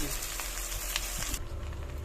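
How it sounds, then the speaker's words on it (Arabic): Green pepper and freekeh sauté in a hot pan for a lamb and freekeh tagine, giving a loud, continuous, close-up sizzle that drops slightly partway through. "بعد كده هنحط بقى الفريك بتاعنا نشوحه مع بعض."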